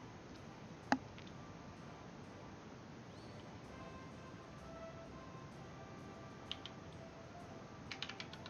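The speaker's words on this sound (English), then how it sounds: "I'm just typing up some stuff to the Discord members" Light, soft tapping on a computer keyboard, faint scattered keystrokes with a sharper click near the start and a few quick taps toward the end, over quiet background hiss.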